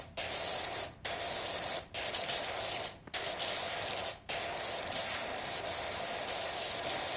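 Sustained broadband hiss of a pressure washer spraying in PowerWash Simulator, loud and steady, cut by a few brief pauses as the trigger is released and squeezed again.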